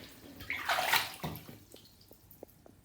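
Water sloshes and splashes in a bathtub to make a pretend storm for a rubber duck, a brief swell of churning water that settles into faint drips and small splashes.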